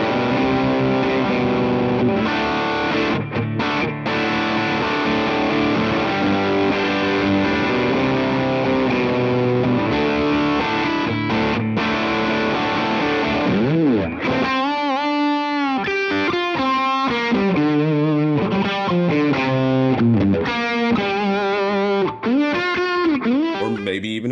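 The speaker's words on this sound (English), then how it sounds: "now you need a distortion pedal." An electric guitar runs through a distortion pedal, with sustained gritty chords giving way to choppier, heavily processed riffs, loud and continuous throughout.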